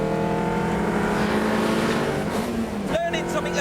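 Car being driven on a driving course, its engine loud and close, droning steadily then dropping in pitch as it changes down through the gears into a bend, with someone talking over it.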